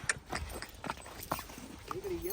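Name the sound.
horse (mare) hooves clip-clopping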